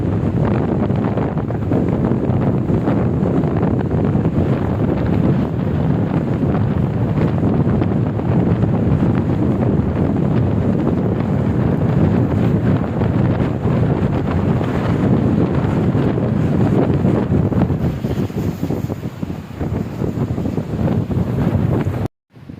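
Strong wind on an island buffets the microphone in a continuous loud roar, gusting unevenly throughout, with no voices.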